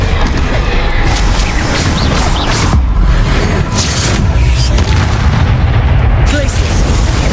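The Confringo explosion spell in Hogwarts Legacy sets off loud, dense booming blasts and crashing impacts that run continuously through the game's combat audio, with a voice talking over them.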